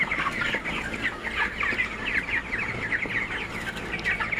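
Chickens raised on the floor of a poultry farm, a dense flock clucking and chirping all around, steady and busy, with no speech.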